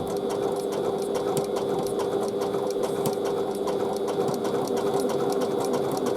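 A sewing machine stitches bias binding in a steady, fast mechanical whir with rapid needle clatter, close and continuous, with no voice.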